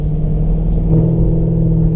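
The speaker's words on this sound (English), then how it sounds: "You can hear that bimodal exhaust cutting in and out." Deep, rumbling V8 engine and bimodal exhaust drone close by from a supercharged Holden HSV GTSR, a steady low throb that swells slightly midway as the exhaust cuts in and out, idling and burbling.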